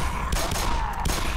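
Rapid volleys of gunfire from the Black Mesa game, loud and dense, with bursts stacking over a continuous roar of shots and ambient din.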